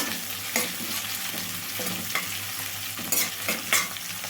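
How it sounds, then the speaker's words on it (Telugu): Onions and curry leaves frying in a pan for a broad bean fry, a close, steady sizzle broken by a few scraping stirs and light clatters, with no talking. "కొంచెం కరివేపాకు ఉల్లిపాయలు అయితే మంచిగా వేగాలండి"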